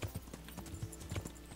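Horse hooves in Kingdom Come: Deliverance, a faint steady clip-clop of several footfalls on hard ground at a walking pace, distant and quiet.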